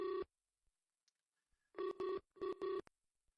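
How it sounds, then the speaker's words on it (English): A telephone rings for an incoming call: a short electronic burst, a pause, then two double-pulse rings, fairly faint and close with silence in between. "got another phone call coming in"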